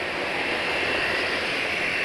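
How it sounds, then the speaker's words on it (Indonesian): A car engine runs smoothly after 600 km on its current oil, giving a steady, even whooshing hum heard up close with no other sounds. "Suara mesin masih halus."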